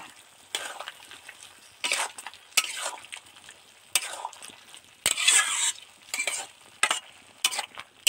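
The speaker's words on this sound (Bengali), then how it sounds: "আস্তে আস্তে নেড়ে চেড়ে মিশিয়ে দেব।" Potatoes and poppy seed paste are stirred in a frying pan with a utensil, giving intermittent scraping bursts over a soft sizzle, close and moderately quiet, with no voices.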